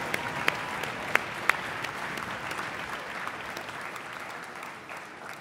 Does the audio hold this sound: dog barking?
no